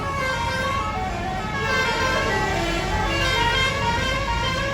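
Truck telolet horn honking, a loud sustained melodic multi-tone blare whose pitches bend and shift throughout, played continuously close by over engine rumble.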